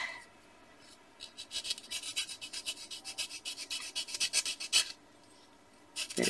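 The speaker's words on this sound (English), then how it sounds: "I'm just filing off those little nubby ends" Rasping strokes of a file across the nubby edges of chipboard flower pieces, a steady run of short close scrapes in quick rhythm, stopping briefly before resuming.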